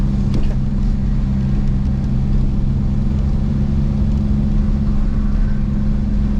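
A 2JZ-engined 240 car drifts on a wet track, its engine a loud, steady droning hum held at high revs throughout with faint spray and road noise and no talking.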